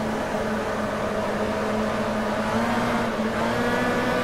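A Volkswagen Beetle, rear-engined, accelerates in the Automobilista racing game, its engine a steady droning hum with slowly shifting pitch, held at an even level throughout without speech.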